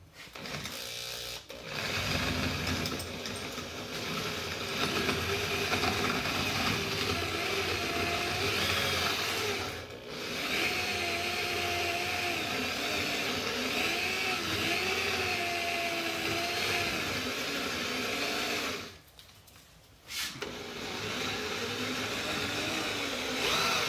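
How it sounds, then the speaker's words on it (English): A power drill whines continuously at high speed, briefly stopping twice before spinning up again, its pitch wavering as it bites into metal, drilling out a brake bolt head on a Cadillac CTS-V. "Smaller the drill bit, the easier it's going to drill."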